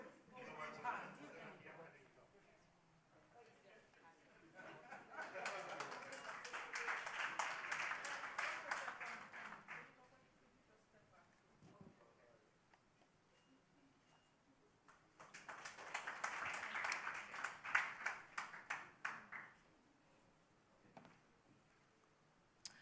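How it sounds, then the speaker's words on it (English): Audience applause at a school's annual lecture and prize-giving day, two separate bursts of clapping of several seconds each from a hall full of people, with a spoken voice heard faintly in the gaps between them. "A round of applause, please."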